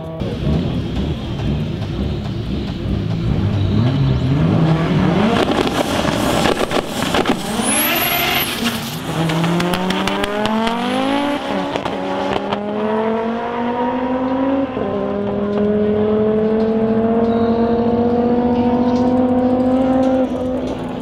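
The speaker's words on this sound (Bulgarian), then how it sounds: "И не се спряха тия момчета да дават пълна газ" Race cars in a street drag race at Kondofrey, engines revving hard and accelerating at full throttle, loud and close, pitch climbing through gear changes as they pull away.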